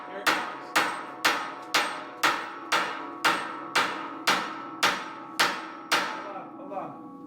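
Ringing metallic clanks as a boom is fitted onto a large off-road wrecker, about a dozen evenly spaced sharp strikes each with a short decaying ring, moderately loud and without talk.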